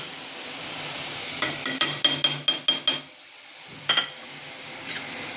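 Sautéed masala being stirred in a pot for biryani, with a run of sharp metal scrapes and clinks against the pot over a steady background sizzle, followed by a quieter pause and a few more clinks.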